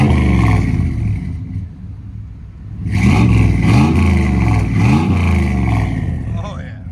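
A clean 1994 Chevy 1500 pickup with a 5.7L 350 V8 and Flowmaster exhaust revs loudly and close up, deep rumbling blips rising and falling in a few bursts after a brief quieter idle.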